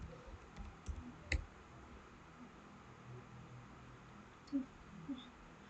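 Typing on a computer keyboard comes through as a few sparse, faint clicks and taps over a quiet room hum, with no talking.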